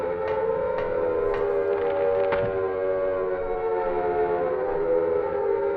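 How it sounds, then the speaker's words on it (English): An air raid siren wails in the video game Silent Hill, a sustained droning tone lingering with echo, accompanied by a few faint clicks early on, with no talk. "Air siren victory noise."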